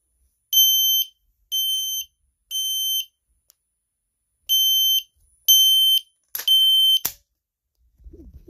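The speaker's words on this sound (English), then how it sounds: "So that's why they're out of sync." Smoke alarms sound out of sync: seven loud, shrill, piercing beeps in a steady pulse about one second apart, the last two overlapping with a short crackle, followed by a faint low thud.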